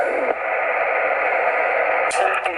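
A Yaesu FT-818ND transceiver puts out a steady hiss of static, with faint muffled signal audio in it, for a little over two seconds. No one talks.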